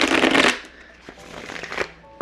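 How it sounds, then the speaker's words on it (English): Tarot cards being shuffled: a dense, papery riffle burst at the start, then scattered soft card flicks and taps, ending in one sharp snap, close up with no talk. "We're going to shuffle the cards a bit."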